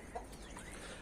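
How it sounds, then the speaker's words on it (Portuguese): A large rooster clucks quietly in a few short, soft calls against a faint background hiss, with no voices present. "É grandão esse galo aqui."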